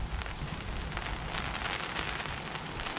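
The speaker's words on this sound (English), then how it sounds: "it's drizzling on the tarp" Light drizzle patters steadily on a tarp sheltering a back garden bushcraft camp, a soft continuous hiss of fine drops hitting the fabric overhead with no talking.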